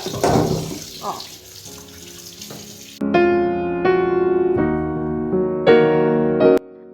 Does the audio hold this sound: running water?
yes